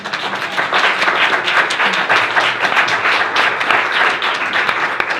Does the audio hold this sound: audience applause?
yes